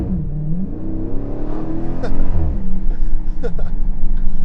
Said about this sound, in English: That launch control hard.